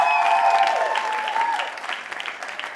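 An audience applauds a man at a church gathering, a brief, fairly loud round of clapping mixed with crowd murmur that softens and grows more scattered as it winds down.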